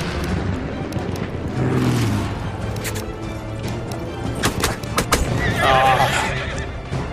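A horse in the Battlefield 1 beta whinnies loudly, then gallops with rapid hoof clops amid battlefield noise, sharp impacts and thuds, with a brief voice under the action.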